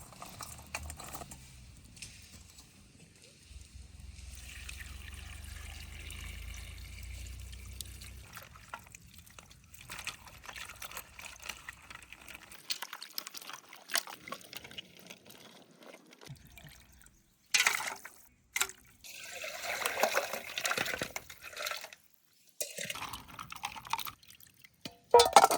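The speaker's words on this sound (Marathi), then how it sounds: "आता हे खुऱ्या धुवून घेतो गरम पाण्यात" Mutton trotters being rinsed in hot water, with intermittent dripping, pouring and splashing sounds that come and go in bursts and pauses, close by and fairly quiet.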